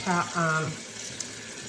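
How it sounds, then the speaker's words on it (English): Water runs from a bathroom tap into a sink as it heats up, a steady close hiss that continues after a voice speaks briefly at the start. "And then I turn on my water and get it hot or warm."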